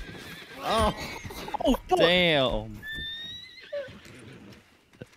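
A horse in Red Dead Redemption 2 lets out a loud, descending whinny after being punched, followed by a brief clatter of hooves, with a man's startled exclamation and other talk over the start.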